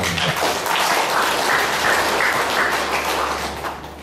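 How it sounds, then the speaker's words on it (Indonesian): An indoor audience at a government staff meeting breaks into sustained applause, a dense, even wash of many hands clapping that fades slightly at the close. "Saya kira ini perlu dikasih aplaus"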